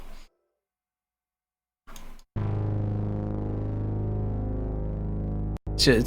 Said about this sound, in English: It's just kind of a little bit of a growly bass synth. Put a little bit of distortion on it